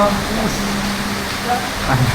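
Heavy afternoon rain pours outdoors during a flood, a steady broadband hiss that fills the background under a person speaking close by.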